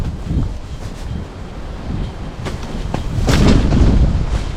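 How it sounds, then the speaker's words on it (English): Strong wind gusts buffet a hunting ground blind in the open, a loud roaring rush that swells and surges, peaking in a heavier gust near the end, with no voices. "That wind, man. I'm telling you, strong winds today."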